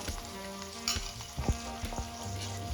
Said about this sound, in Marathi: इथे आपल्याला हे सर्व साहित्य एक मिनिटासाठी तळून घ्यायचं आहे तेलामध्ये